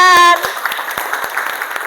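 A classroom of children claps on cue, a quick sung or chanted group response giving way to a series of separate, fairly loud claps at an uneven rhythm.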